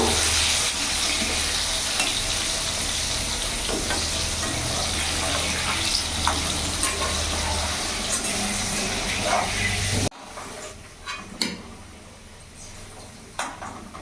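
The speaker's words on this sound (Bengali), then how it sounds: "আলুটা আমি এখানে লাল লাল করে ভেজে নেবো।" Potato pieces fry in hot oil in a pan for a Rezala-style mutton curry, giving a loud, dense, continuous sizzle for about ten seconds before it drops to quieter scattered crackles and clinks.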